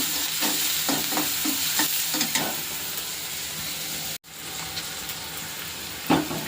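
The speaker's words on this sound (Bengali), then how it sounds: "আর এই যে রসুনটা দিয়ে দিলাম, দিয়ে আর একটু ভাজা করে নেব।" Onion, garlic and chilli frying in a pan with salt and turmeric, a steady loud sizzle with repeated stirring scrapes, close up and without talk.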